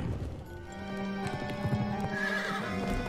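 Horse galloping with repeated clip-clop hoofbeats and whinnying neighs in the Pumpkin Jack video game, steady and close throughout with no talk.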